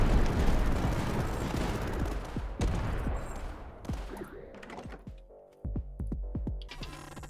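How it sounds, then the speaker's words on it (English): Relentless artillery barrages in the video game Tower Dominion: dense, overlapping booms and thuds roll on continuously, then thin into a string of distinct, punchy blasts with brief gaps between them. "It's just a constant salvo of artillery barrages."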